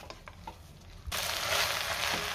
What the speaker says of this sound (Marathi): तांदूळसुद्धा मी 2 मिनटं चांगला परतून घेणार आहे, अगदी हलक्या हाताने परतून घ्यायचा आहे तांदूळ